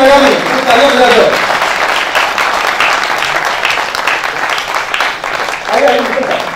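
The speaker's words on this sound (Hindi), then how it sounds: "तालियां बजा दो।" A seminar audience on business leadership applauds loudly and continuously, the clapping easing slightly midway before swelling again. Someone speaks over it at the beginning and once more toward the close.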